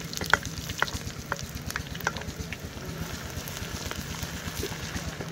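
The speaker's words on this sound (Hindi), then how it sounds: "अब हम इसमें प्याज डालेंगे।" Onions sizzle and crackle in hot mustard oil in a village kitchen, a soft, steady fry broken by small pops and the scrape of stirring.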